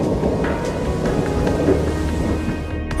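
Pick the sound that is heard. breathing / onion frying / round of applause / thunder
thunder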